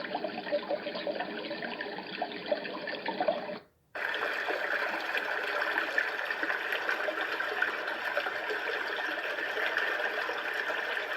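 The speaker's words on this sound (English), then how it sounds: "Babbling brook" A white noise machine plays its babbling brook setting: a steady, even rush of water-like hiss that cuts out briefly partway through, then resumes slightly brighter and continues unbroken.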